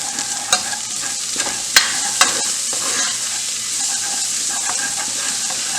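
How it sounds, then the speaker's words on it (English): Chopped garlic, dry spices and onions frying in a pot for garam masala chicken, a steady sizzle with a few sharp clinks and scrapes of stirring, close and alone. "we're going to add in the chopped garlic that we have. And I'm going to cook that off a little bit."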